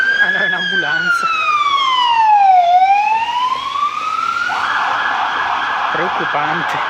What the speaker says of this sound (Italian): Ah no, è un'ambulanza.